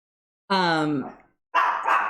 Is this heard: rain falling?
no